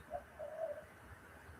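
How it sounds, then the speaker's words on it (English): A peewee, or magpie-lark, calls once in the distance, a short soft call heard alone over a steady background hum outdoors near a workbench. "What kind of bird sound was that? That was a peewee"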